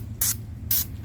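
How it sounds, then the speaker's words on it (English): Two short hissing bursts of chemical spray hit a rusty Dietz No. 2 D-Lite large-fount lantern, each about a tenth of a second long, close and crisp over a faint background hum. "we're gonna have to get chemical. We have to spray it down."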